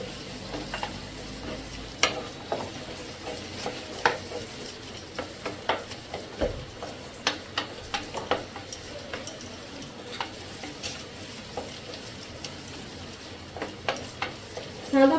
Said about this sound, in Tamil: ஒரு டூ மினிட்ஸ் அப்படியே இருங்க வெங்காயம் நல்லா வதங்கிடும்